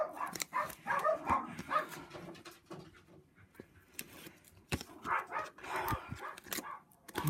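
Several dogs barking repeatedly at a moderate distance, the yaps coming in clustered bursts with short gaps between them, with no talking over them.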